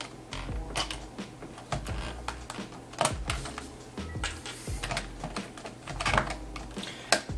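Keys being pried off an old, 16-year-old IBM keyboard give irregular sharp clicks, snaps and plastic rattles, close and fairly loud with no talking.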